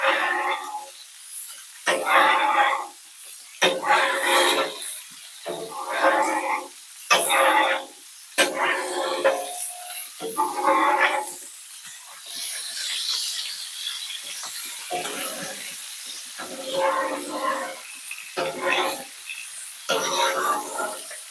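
Food sizzles on a Blackstone griddle where bacon was just cooked, a steady bright hiss running throughout beneath choppy bursts of nearby voice or grunting.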